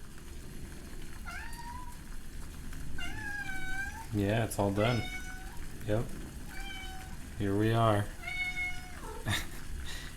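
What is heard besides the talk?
cat meowing loudly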